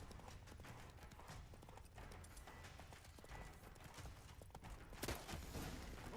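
Roach, a horse in The Witcher 3 video game, gallops with a steady, fast clip-clop of hooves under a dense game soundscape, with a brief louder burst near the end.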